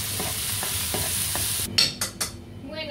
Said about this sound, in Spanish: ya tenemos el salteado de verduritas, de pimiento, cebolla